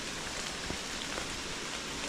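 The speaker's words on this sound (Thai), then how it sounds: "ฝนยังบ่เช้าตกอยู่" Rain falling steadily during a heavy downpour, a dense, even hiss of drops on surfaces with no voices.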